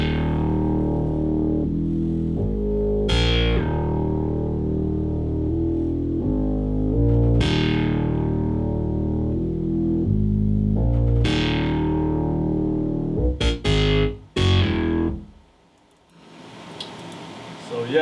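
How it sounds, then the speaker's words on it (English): A compressed hardcore synth bass in a Persian trap beat drives forward with loud, in-your-face repeating notes, punctuated by sharp percussive hits, before dropping off abruptly near the end into a quieter tail. "more of it like a synth bass"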